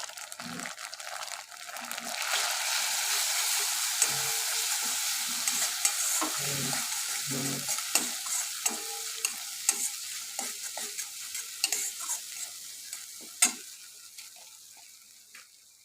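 Cumin, chilli and turmeric powders frying in a pan for spicy pabda fish, a loud close sizzle with repeated stirring scrapes and clinks that fades toward the end, with no talking.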